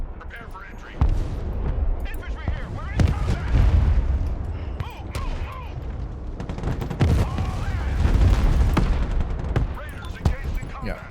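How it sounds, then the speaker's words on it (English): Bombing and artillery fire in the modern military strategy game Broken Arrow: a dense, continuous barrage of booms and gunfire bursts, loud and close, with heavy explosions rolling through most of the stretch. "They are now bombing me."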